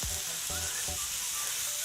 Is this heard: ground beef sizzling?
yes